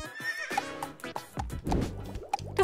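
A horse whinnies loudly, a shaky high neigh followed by snorts and a few soft hoof clops, close by.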